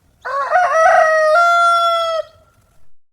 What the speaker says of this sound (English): A rooster goes.